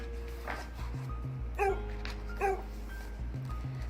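Roxy, a pet dog, gives short yips, soft whimpers and a couple of sharper barks in an uneven pattern, fairly close, with a low steady hum underneath.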